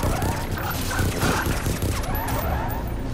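A robot dog from Far Cry 3 Blood Dragon barks and yips amid a dense, loud game soundscape of mechanical noise and gunfire, all in one short burst.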